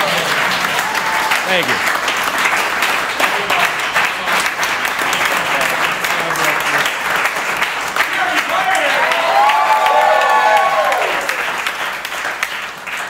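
Sustained audience applause fills a storytelling performance space, a dense wash of many hands clapping steadily throughout, with a brief spoken thanks and some faint voices over it.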